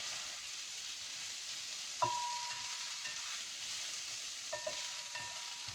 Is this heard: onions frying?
yes